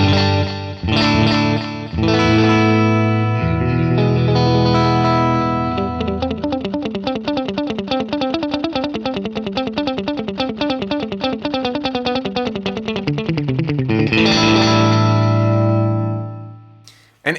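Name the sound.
guitar through Boss DD-20 standard digital delay, 300 ms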